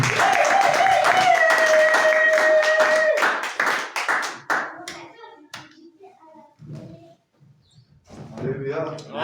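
Church congregation at a French-language worship service claps together in a dense, sustained burst over sustained singing or acclaim, then thins into scattered claps, with voices and a child's speech coming through near the end.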